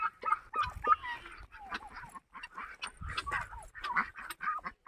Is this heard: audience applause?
no